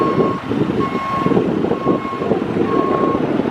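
A lorry on a roofing site sounds four evenly spaced reversing beeps, clear and steady, over a rumbling diesel idle and general site noise.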